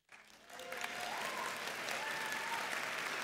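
An audience at a reunion welcome event bursts into applause for president J.E. Wallace Sterling, the clapping swelling within half a second into steady, dense, sustained applause from a large crowd.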